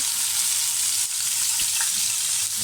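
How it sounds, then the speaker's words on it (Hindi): Chicken tikka pieces fry in hot oil, a steady close sizzle and crackle running throughout with small pops, no voices. "तो इसको फ्राई करते हैं"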